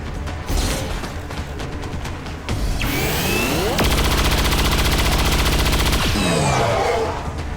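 Rapid Chain Shot rifle fire aimed at an Archon in XCOM 2: a loud, sustained burst of gunfire with a whooshing energy sweep leading in and fading out, set against game ambience.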